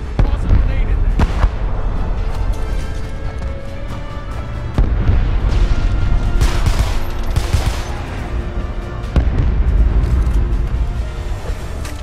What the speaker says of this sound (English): Toss a grenade in there.